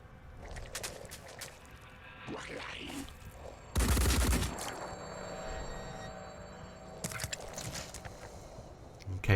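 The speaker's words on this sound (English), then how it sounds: "And the sniper is shooting the valuable desk." Sniper gunfire in the video game Phoenix Point: a loud, dense burst of shots near the middle, with scattered sharper cracks and game sound effects before and after.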